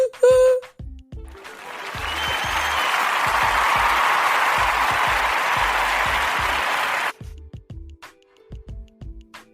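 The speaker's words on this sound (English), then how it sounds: "So thank you for the round of applause." Audience applause at a talk swells from scattered claps into a full, loud ovation that holds for several seconds and then stops abruptly, with a voice speaking before and after it.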